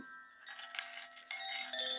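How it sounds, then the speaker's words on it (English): Bright, tinkling metallic tones ring out in overlapping clusters, a steady shimmer of chimes close by with a low hum underneath. "Wind chimes are ringing."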